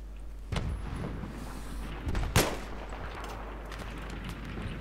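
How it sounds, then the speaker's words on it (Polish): Incoming sniper rifle fire in Battlefield 3 on the Bandar desert map cracks out in sharp, loud reports, one faint early and a stronger one midway, over low engine rumble from the game. "I ten specyficzny dźwięk, jak ktoś do ciebie strzela. Ze snajperki, nie?"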